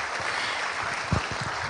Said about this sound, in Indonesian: Kita berikan sekali lagi tepuk tangan untuk kita semua.